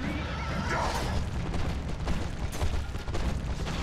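A horse neighs in the video game God of War 2, a loud whinny over a dense roar of battle noise and rumbling booms.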